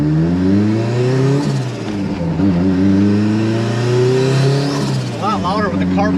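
Toyota MR2 AW11 engine revs loudly inside the cabin with the carpet removed, rising and falling in pitch over several seconds with a short blip near the end.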